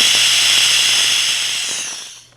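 A pressure cooker of venison stew vents steam in a loud, steady broadband hiss over a low hum, holding for about two seconds before tapering off, with no talk.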